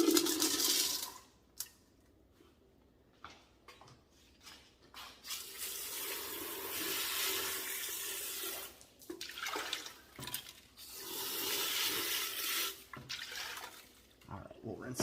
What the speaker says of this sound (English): All right, we'll rinse that off better a little bit.